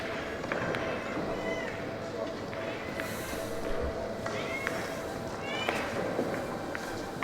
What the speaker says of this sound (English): That is my cat being very hungry.